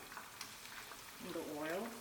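Seasoned ramen noodles fry in hot oil for a lobster and shrimp ramen, a faint steady sizzle that swells louder near the end, with a brief voice.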